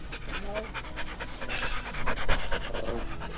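A big, heavy dog pants in quick, rhythmic breaths close by, under soft household talk.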